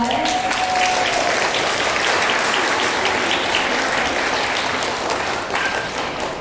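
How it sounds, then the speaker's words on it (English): Steady applause from a concert audience, dense clapping that holds at an even level for several seconds before tapering slightly. "Can we give them a round of applause?"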